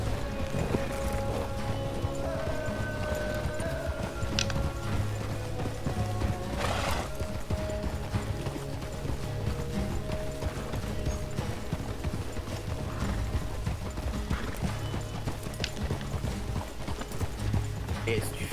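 Horses gallop in Red Dead Redemption, a steady rhythmic clip-clop of hooves with an occasional neigh, mixed under ongoing talking.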